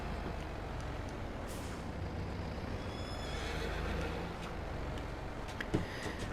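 In Farming Simulator 22, a steady low rumble fills the clip, with a faint high horse whinny breaking through near the start and a sharp click toward the end.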